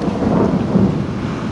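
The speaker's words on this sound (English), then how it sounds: "It's a very stormy night." A stormy night in a shipwreck video game brings a deep, loud thunder rumble over rushing rain, continuous for a moment with no voices.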